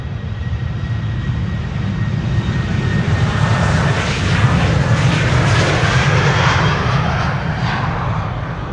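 A Delta Air Lines Airbus A330-300, flight 71 to Atlanta, departs Amsterdam Schiphol with a loud, close jet roar that swells toward the middle and eases slightly at the end, a thin high whine running through it and no voices.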